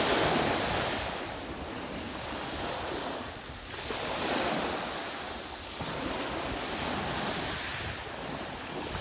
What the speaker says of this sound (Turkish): Şimdi dalga biraz dinletelim